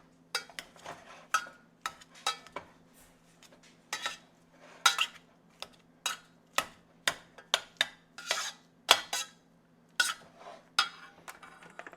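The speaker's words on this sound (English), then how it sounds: "just mash it till it's all smooth" Food for a home-cooked steak bourguignon mashed in a pot: a close series of sharp clinks and taps as the masher strikes the pot, in a steady but uneven rhythm with short gaps, and no talking.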